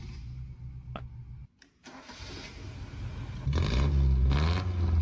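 A restored 1975 Toyota Celica with a carburetor and a new exhaust cranks briefly, catches and fires, then settles into a loud, throaty idle with a few revs.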